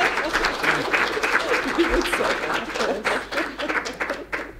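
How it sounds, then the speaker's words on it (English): An audience applauds a panel discussion on the solicitor super-exam, with lively, close clapping that holds for several seconds and tapers near the end, with voices faintly mixed in. "Round of applause for a great panel."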